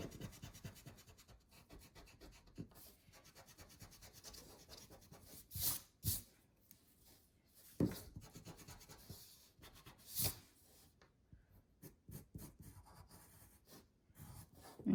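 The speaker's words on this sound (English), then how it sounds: "And then now you can erase in there." Eraser rubbing over a pencil drawing on paper, with soft scratchy strokes building into several louder bursts of brisk rubbing, close and alone without talk.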